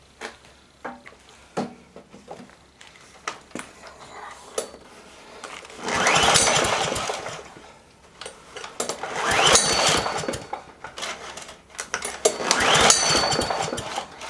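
Three pull-start yanks on a free junk-pile lawnmower with no spark, each a rough rasping whir of cord and turning engine that dies away without firing, separated by quieter clicks and handling noises.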